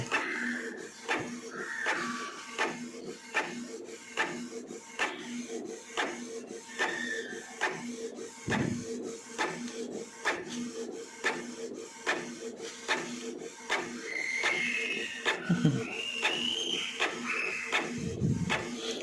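A Canon Pixma iP2770 inkjet printer feeds and prints a page, with a steady run of quick mechanical clicks and whirring carriage passes, close and fairly quiet.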